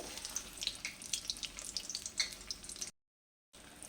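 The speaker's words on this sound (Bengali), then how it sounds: "এরকম করে লাল লাল করে সবগুলোই ভেজে নেব" Egg koftas frying in a pan of oil, a close, bright crackling sizzle with scattered pops, broken by a short stretch of silence before the frying resumes.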